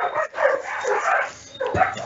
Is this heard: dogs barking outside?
yes